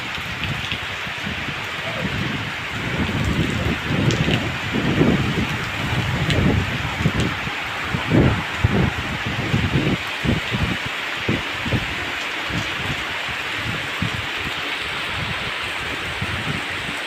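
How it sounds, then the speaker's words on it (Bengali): Rain falling steadily, heard from a rooftop, a dense continuous hiss of drops with heavier irregular patters and splashes on the surfaces nearby. "দেখছেন কীভাবে বৃষ্টি পড়ছে।"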